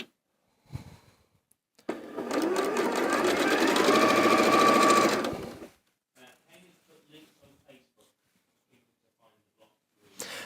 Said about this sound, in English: So I'm going to sew these.